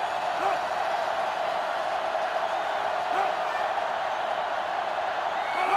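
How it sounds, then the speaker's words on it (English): A stadium crowd in the NCAA Football 2005 video game roars in a steady, dense wash of cheering that fills the background without letup. "this crowd is going absolutely insane"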